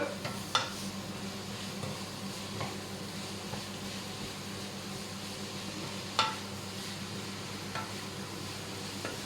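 Vegetables with red cabbage stirred in a pan, a soft steady sizzle under occasional scrapes, with two sharper utensil knocks against the pan standing out.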